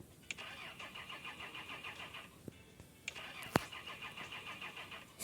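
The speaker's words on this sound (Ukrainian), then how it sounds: "Ніяк не завозиться, думаю, накрився стартер." A car engine in the video game Retro Garage cranks over and over without catching, a steady rhythmic whirring broken by a few sharp clicks, heard alone, with a suspected faulty starter.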